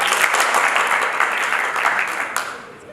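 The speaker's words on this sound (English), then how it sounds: "for that, a clap. I say clap." A burst of applause at a Nanyuki High School event in Kenya, many hands clapping loudly together, fading slightly toward the end.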